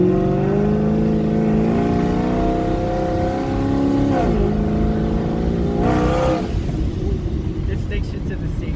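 A 1000-horsepower ProCharged Camaro SS accelerating hard, its engine note climbing through rising harmonics with gear-change dips, loud and close for the whole stretch, with a voice talking over part of it.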